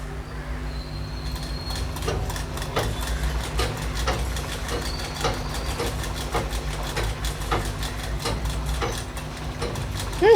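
A sewing machine stitching a chudithar pant runs in a steady, fast mechanical rattle at moderate volume, continuous throughout with no talk.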